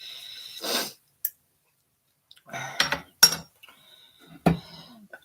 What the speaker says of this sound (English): I'm just scraping my sour cream bowl